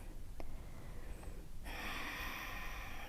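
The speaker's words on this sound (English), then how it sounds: "Inhale, arms up." A sharp nasal inhale during a flowing yoga sequence, heard as a loud, close rush of breath that rises suddenly and holds steady to the end over faint room noise, with no talking.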